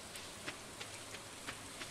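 Steady rain from the video game Stardew Valley hisses as a dense, even wash, with a few soft droplet taps rising briefly above the constant patter, fairly quiet and uninterrupted.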